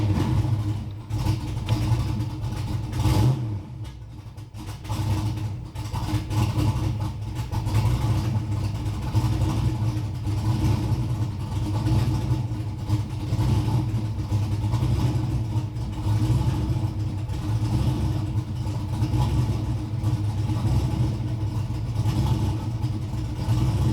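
A turbocharged Ford Mustang Foxbody runs steadily at idle, its engine a continuous low rumble with slight fluctuations in revs, close and loud throughout with no talking.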